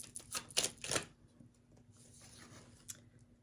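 Tarot cards are shuffled by hand close up, giving a quick burst of crisp riffling flutters in the first second, then quieter papery rustles and one light tap.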